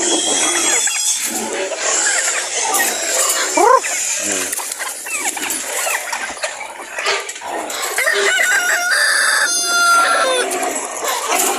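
Chickens and chicks on a farm: dense clucking and peeping with a rooster crowing and a dog barking, all close and busy, while someone talks over the flock.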